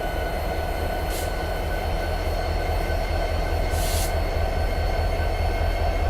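A diesel train in Train Simulator 2017 pulls a line of aggregate wagons with a loud, continuous low rumble and a steady engine drone, and two short hissing bursts rise above it along the way.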